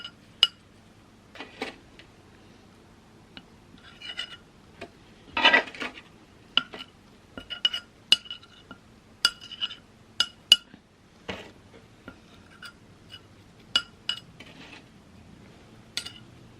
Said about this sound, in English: Get my little spoon and push some of the soil underneath this rosette.